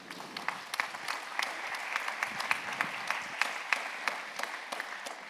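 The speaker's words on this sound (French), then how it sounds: "On peut les applaudir." An audience at a plenary conference session on the business of tomorrow applauds with a steady patter of claps, fairly soft and slightly distant, holding evenly for several seconds.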